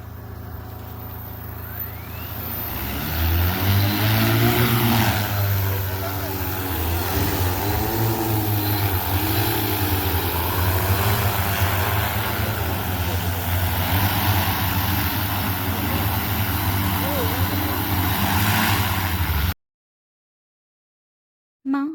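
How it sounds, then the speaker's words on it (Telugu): An agricultural drone spraying pesticide over a rice field whines with rising and falling motor tones over a low engine-like hum. The sound stays steady and fairly close for about twenty seconds, then cuts off abruptly. "మా వరి పంటకి డ్రోన్తో అయితే మందు స్ప్రే చేపిస్తున్నామని చెప్పాను కదా, ఇదే ఆ డ్రోన్"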